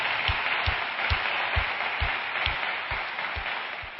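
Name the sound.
church audience applauding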